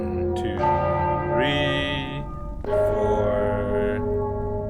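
Two large bells in Enderal are struck in turn with a bell hammer, each giving a sharp metallic strike followed by a long, rich ringing hum that lingers and overlaps, loud and close.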